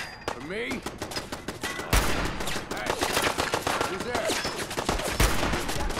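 Hunting rifle shots in Fallout 4 ring out repeatedly amid a busy battle at the Corvega Assembly Plant, loud and close, with other gunfire rattling and someone talking over the noise.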